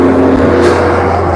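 A loud car passing on a road near the closed roads toward Grindavik, a brief close engine roar heard alone.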